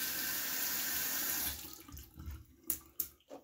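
Water runs from a tap to wet a shaving brush for a head shave, a steady close hiss that cuts off midway, followed by a few sharp splashes and taps as the brush is shaken.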